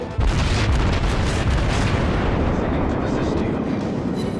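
Naval artillery in World of Warships, a sustained loud rumbling barrage of heavy gunfire and booming impacts, dense and continuous throughout, with some talk likely mixed in.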